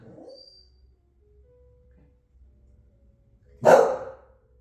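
A single sharp dog bark rings out near the end after quiet moments, close and loud against a faint background.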